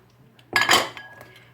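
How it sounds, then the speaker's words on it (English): A brief burst of metallic clinking and scraping as a utensil stirs soup with green beans in a pot, close and sharp for under half a second, then a fading ring. "I stir this all around"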